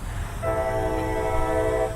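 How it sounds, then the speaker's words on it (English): A passing train sounds a loud, steady horn tone over deep rumbling, sustained and fairly close, with no talk. "Hello, train."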